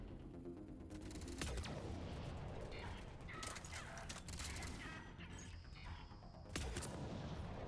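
Enemy gunfire rattles in Mass Effect 3 as quick bursts of shots and sharp impacts over steady combat noise, fairly close, with several louder cracks spread across the clip.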